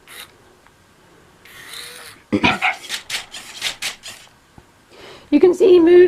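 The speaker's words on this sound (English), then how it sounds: "he wiggles about, and his motors are quite strong actually" A CHiP robot dog wiggling about, its motors giving short, close whirring and rasping bursts in an irregular series, with a voice briefly heard near the end.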